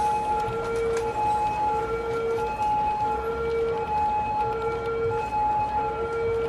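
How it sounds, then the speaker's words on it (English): An ambulance siren in the city-building game Cities: Skylines wails, cycling steadily between two pitches, sustained and fairly loud over a noisy, rumbling background. "Is that the ambulance?"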